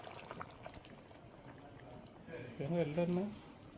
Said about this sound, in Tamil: மீன் சேர்த்து குழம்பு நல்லா கொதிச்சிருச்சு